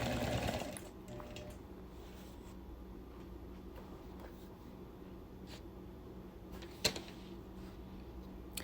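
A sewing machine bought around the end of 1999 stitches in the ditch between the blocks of a large quilt, guided along a long ruler; a steady, quiet motor hum runs throughout with one brief knock near the end.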